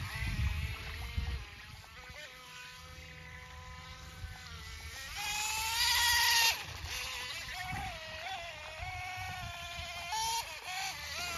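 A micro jet rigger RC boat on 2S power runs across water, its tonal electric whine rising and falling with throttle changes and peaking in a loud burst midway, with a faint voice now and then.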